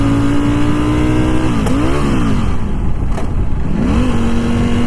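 Ducati V4S motorcycle engine droning loud and steady, its pitch dipping and climbing twice as revs drop and rise again after a missed gear, close up with no voices.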